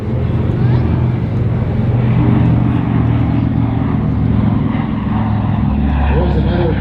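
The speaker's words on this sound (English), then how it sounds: "Here's another beautiful bottom-side pass from our C-47 Dakota." A C-47 Dakota propeller airplane passes overhead at an air show, its continuous, loud, droning engine roar holding steady throughout.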